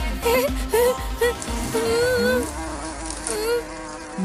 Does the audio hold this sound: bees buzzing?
yes